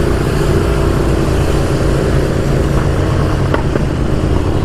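Ducati Multistrada 1200 fitted with a Termignoni exhaust and standard end can, a steady loud engine drone with a couple of brief sharp pops near the end, no talking.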